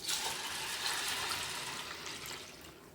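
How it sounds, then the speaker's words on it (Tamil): Water pours steadily over urad dal lentils left to soak, a continuous splashing rush that fills the whole clip with no voices. "தண்ணி ஊற்றி ஊற வச்சுக்கலாம்"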